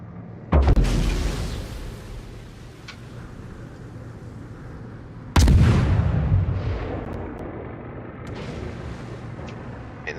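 Two torpedo strikes explode in a naval warfare video game, each a sudden heavy boom followed by a long rumbling decay, the first near the start and the second louder about halfway through.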